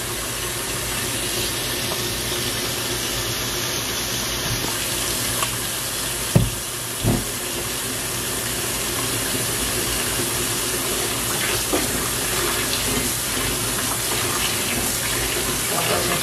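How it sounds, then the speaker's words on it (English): Water runs steadily from a tap into a sink while mushrooms are washed, a continuous close splashing rush with a couple of faint knocks partway through. "before we can do anything with them, I definitely want them washed"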